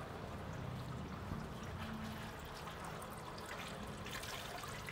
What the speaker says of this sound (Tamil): இந்த சம்பை கழட்டினா இன்னும் கொஞ்சம் ஆயில் எக்ஸ்ட்ரா வரும்